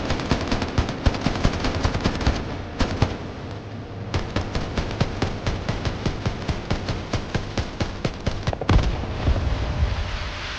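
Rapid automatic gunfire from a US Coast Guard vessel firing warning shots at a Venezuelan smuggling boat, loud, dense bursts of shots rattling continuously with brief pauses, heard close and without talk.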